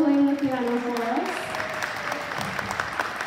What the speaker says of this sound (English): Can we give a round of applause to Mrs. Rogers for playing the piano for us?